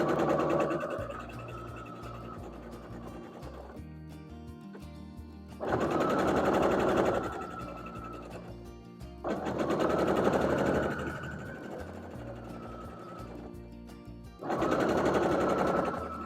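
Sewing machine joining quilt block rows for a barn star quilt: loud, close bursts of fast mechanical stitching that start and stop several times, with quieter handling noise between runs and no talking.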